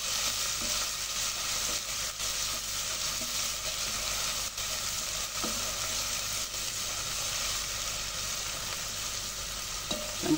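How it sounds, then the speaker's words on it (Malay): Pounded garlic and shallots sizzle steadily in hot oil for a curry, a continuous bright frying hiss with occasional soft stirring scrapes throughout. "Bawang putih dengan bawang merah. Okay, kita tumiskan dia."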